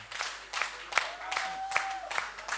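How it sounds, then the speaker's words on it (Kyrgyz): A seated audience at a folk song concert in Osh claps for a singer, with rhythmic bursts of applause close by and a little background voice. "Кол чабуулар болсун."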